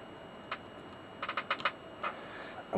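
A new switch for a PEAK Atlas LCR tester repair is clicked repeatedly. It gives a faint, close series of sharp, light clicks, a few single and several in a quick run.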